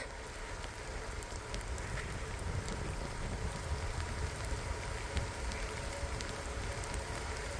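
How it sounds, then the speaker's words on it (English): Heavy rain falls during a bike ride on a trail loop, a steady hiss with scattered sharp drop ticks over low wind rumble, moderately faint with no talk. "it's raining pretty hard right now"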